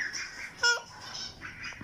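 A duck gives a brief squawk at a farmyard in the morning, heard close but soft over a steady hiss of background noise and another bird's calls.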